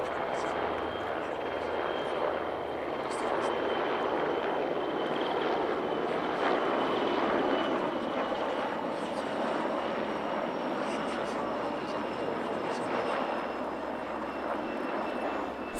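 A Mi-8T helicopter leading a pair of W3P Sokol helicopters in flight at the 2023 Radom Airshow in Poland: a steady, loud rotor and engine roar that holds throughout with little change in level.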